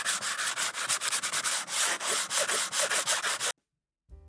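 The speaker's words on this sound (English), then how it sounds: "before the cockpit receives its very own aggressive sanding" Rapid, continuous abrasive sanding strokes on the cockpit of a clay model, loud and close, rasping in a steady rhythm for several seconds before stopping abruptly.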